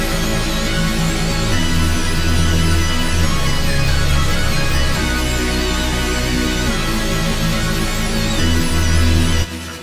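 Layered synth lead presets built from stock plugins in FL Studio play together as one thick, bright, sustained melodic line over a steady low end, loud and continuous before cutting off at the very end.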